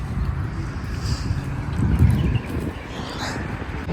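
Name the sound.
strong cold morning wind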